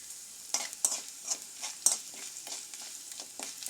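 Onions and curry leaves for a Kerala koottu curry sizzle in a pan while a spatula stirs them in quick, repeated strokes. Crisp, close scraping rises over a steady low hiss of frying.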